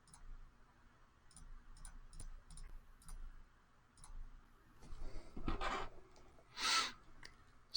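Numbers being typed on a calculator: a faint, irregular series of light plastic key clicks, with short pauses and a few brief rustles in a quiet room.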